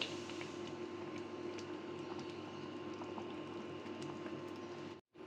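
Lentil dal bubbling under a lid in a covered pot, a steady soft simmer with faint popping, continuous and close, ending in a brief cutoff.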